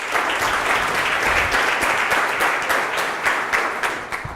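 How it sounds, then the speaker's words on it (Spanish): An audience at a science and technology communication contest claps steadily for several seconds in dense, continuous applause. "un fuerte aplauso para Martín y para todos los participantes"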